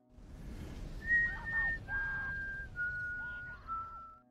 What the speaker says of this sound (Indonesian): malah bersiul-siul ketika ditangkap